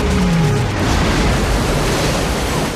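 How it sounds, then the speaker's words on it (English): Godzilla plunges into the Hudson River in a film scene, heard as a loud, sustained roaring wash of churning water and rumble. "He jumped into the Hudson River."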